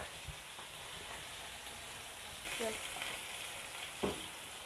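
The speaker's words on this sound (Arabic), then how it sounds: "البصل اهو بنشوحه" Onions sautéing in a pan for a seafood dish give a soft, even sizzle with a couple of brief louder bursts of stirring, faint and close with no voices.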